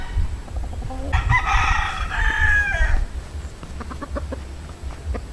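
A Boston Roundhead cross rooster crows once in a backyard breeding flock, a loud, close, drawn-out call lasting about two seconds, followed by softer clucks and background chicken noise.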